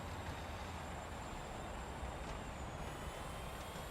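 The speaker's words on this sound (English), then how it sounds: "The sound of this car, though, is driving me nuts." Car engine in the racing video game Real Racing 3, a steady droning hum with a high whine running continuously for the whole stretch, fairly quiet with no voices.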